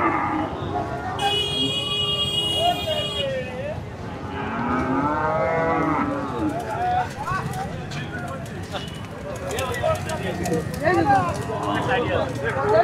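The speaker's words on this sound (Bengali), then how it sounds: "এই একটা অনেক বড় গরু, এটা বেশ বড় একটা গরু" A large cow at the Shahapur cattle market in Dumuria lets out a long, loud moo early on, followed by fainter lowing amid the steady bustle of traders and nearby voices talking.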